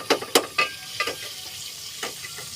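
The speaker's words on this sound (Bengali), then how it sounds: "এখন সে পাকিস্তানি সবজি রান্না করবে" A Pakistani vegetable dish of potatoes and tomatoes cooks in a pan, with a soft sizzle under several sharp, close scraping stirs at an uneven pace.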